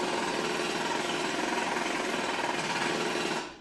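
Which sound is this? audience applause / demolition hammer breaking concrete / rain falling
demolition hammer breaking concrete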